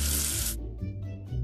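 A short burst of spraying, running water rinses soap off a letter in an alphabet learning game. The spray is bright and loud, then stops sharply, leaving faint low residual sounds.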